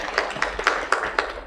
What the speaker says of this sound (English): So shall we give them a good round of applause in advance?